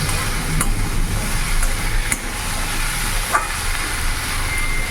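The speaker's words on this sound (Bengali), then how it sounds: "এবার ভালো করে নাড়াচাড়া করে আমি ভেজে নেব।" Okra being stirred and fried in a pan, a steady close sizzle with a few scraping stirs, no voices.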